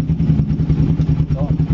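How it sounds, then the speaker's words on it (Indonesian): Kawasaki Ninja 4T two-stroke sport motorcycle engine running at idle during clutch repair, a steady low throbbing close by with faint mechanical clatter throughout. "kondisi mesin hidup"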